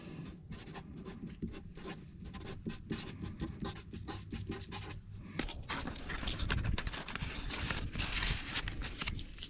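Felt-tip Sharpie marker scratching across a paper form outdoors at a campsite, a steady run of short strokes that grows denser and louder midway, with no talking.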